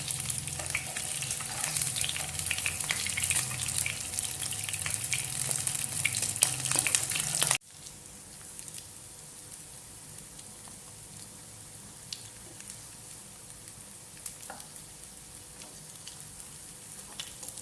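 Potato tikki kebabs frying in oil in a pan, a dense crackling sizzle, loud and close for several seconds, then dropping abruptly to a quieter, sparse spitting with occasional pops, no talking.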